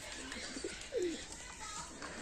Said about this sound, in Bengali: পায়রাগুলো সব ছেড়ে দিয়েছি আর সব খেতে দিলাম, দেখতেই পাচ্ছ সব খাচ্ছে এখানে।